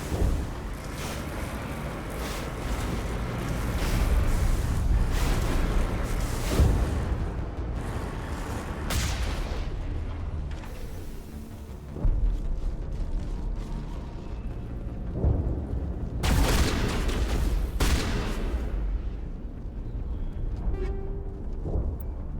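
Shotgun blasts loaded with shredder rounds in Mass Effect 1 during the Feros colony fight, heard as repeated loud, booming shots over a constant rumbling battle background, with bursts clustered together and no talking.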